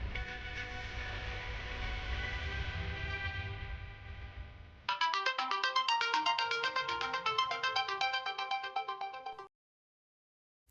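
A phone ringtone for an incoming call rings loud and close in a steady, repeating melodic pattern for several seconds after a low rumbling passage, then cuts off abruptly into silence.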